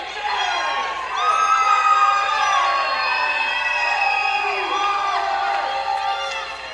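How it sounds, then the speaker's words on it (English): A loud wrestling arena crowd cheers and whoops at a match between Mr. Wrestling Nick Dinsmore and Jessie James, a dense roar of voices with shrill calls rising and falling throughout. "The crowd is so loud, you can't even hear."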